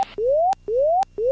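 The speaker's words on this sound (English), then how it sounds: "that sound is the gear warning system on the G3X" Landing gear warning alert from Garmin G3X avionics in an aircraft cockpit: repeating rising electronic tones, each sweep ending in a click, steady and prominent over low engine hum.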